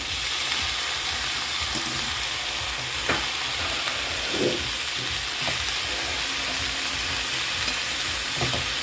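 Cabbage frying with softened onion in a pan for a spiced potato and pea dish, a steady close sizzle broken by occasional soft stirring scrapes, with no voices.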